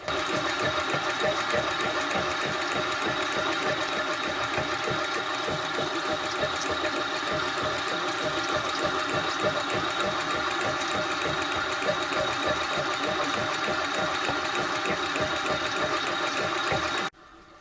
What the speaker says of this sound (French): On voit ici le taillage d'un pignon de 15 dents avec le même outil pignon.